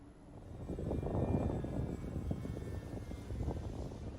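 A Piper Cub light airplane takes off from a hill, its small propeller engine droning at moderate distance in a steady, slightly swelling buzz with no voices.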